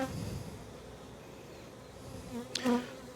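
Honey bees buzz steadily at the entrance of a hive as foragers return carrying pollen in spring, a close, continuous drone with a brief louder pass near the end as a bee flies right by.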